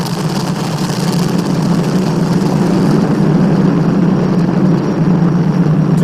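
Falcon 9 rocket carrying the crewed Dragon capsule roars on ascent during the first manned US launch since the shuttle era, a steady, dense low rumble with broadband hiss holding at constant loudness throughout.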